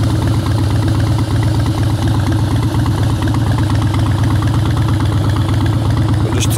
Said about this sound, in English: It's the Harley FXS Softail